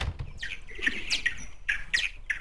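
Birds chirp and squawk repeatedly in short, bright bursts inside a horror game's home setting, several calls coming fairly close and loud in quick succession with no one talking.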